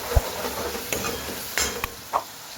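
Tomato garlic chutney sizzles softly in a pan while a spoon stirs it, with scattered scrapes and clinks against the metal over a quiet frying hiss.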